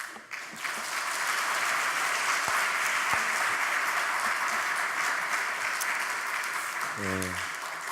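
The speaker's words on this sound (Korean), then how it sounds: "한번 박수해 주십시오" Congregation applauding during a Sunday church worship service, a steady dense wash of clapping that holds for several seconds, with a brief low voice near the end.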